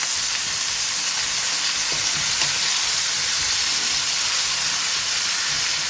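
Tandoori chicken pieces sizzle steadily in a pan on the hob as they are turned, a loud continuous fry with faint stirring scrapes and no talk.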